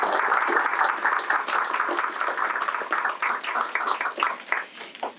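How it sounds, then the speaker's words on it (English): Dense, steady audience applause at a government and community press event, a crowd clapping continuously for about five seconds with no break and no talk over it. "I'd like to give you a big round of applause for that."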